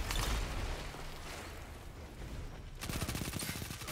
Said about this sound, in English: I've never seen an SMG, like, kill that fast. This thing is insane.